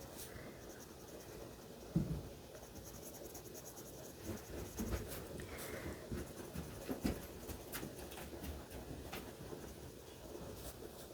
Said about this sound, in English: So I'm going to color that in dark green.